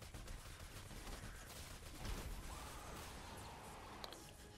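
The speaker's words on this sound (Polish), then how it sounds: "Rtęciowy LKM jest bardzo dobrą bronią." A Mercury light machine gun fires in the Fortnite Save the World game, a dense, sustained burst of rapid shots that keeps a steady level throughout with a small spike near the end.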